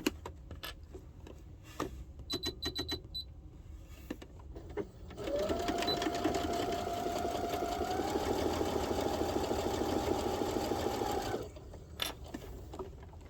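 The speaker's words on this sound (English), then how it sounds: "we're just going to do 1/4 inch seam allowance, up and down" A sewing machine stitches a quarter-inch seam in fabric for a child's wallet. A few light clicks come first, then a steady, close mechanical whirring runs for about six seconds before stopping with a final tick.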